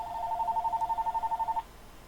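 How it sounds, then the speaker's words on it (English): A phone rings with a rapid warbling electronic trill, one steady burst lasting about a second and a half, then stops, heard alone against faint room hum. "my phone was ringing"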